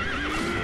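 A horse in the sword-fighting game Sekiro gives a loud, close whinny with a wavering pitch, alone without talk, over a fraction of a second.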